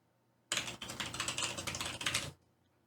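Rapid typing on a computer keyboard, a dense burst of close, crisp key clicks lasting about two seconds, then stopping into quiet.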